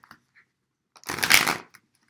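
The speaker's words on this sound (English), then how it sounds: "I'll just do an old-fashioned poker shuffle here." A single quick riffle of playing cards, a brisk fluttering burst lasting about half a second, close and clear, with a few small taps around it.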